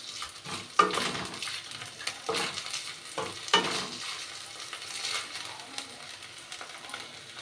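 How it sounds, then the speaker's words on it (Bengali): Washed Gobindobhog rice fries in ghee in a wok, giving a soft steady sizzle broken by scraping stirs and light clinks of the spatula, fairly quiet and close. "তারপর একটু গোবিন্দভোগ চাল ধুয়ে রেখেছিলাম 2 টেবিল চামচ মতো, ওটা একটু ভেজে নেব"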